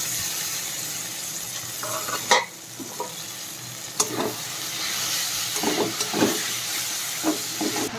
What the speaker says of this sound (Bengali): আদা রসুন আর কাঁচা লঙ্কা থেতো করা, এটা এখন দিয়ে দিলাম।